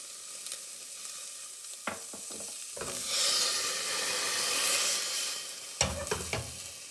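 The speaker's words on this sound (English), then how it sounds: "sizzling sound" Chopped onions sizzling in a pan with a little water while sautéing for a plant-based bœuf bourguignon, a soft hiss that swells into a loud steamy sizzle after the water goes in, with clinks and stirring scrapes.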